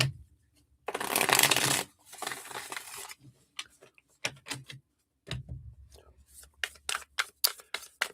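Playing cards are shuffled up close: a long riffling burst, then a shorter one, followed by a series of sharp taps and flicks.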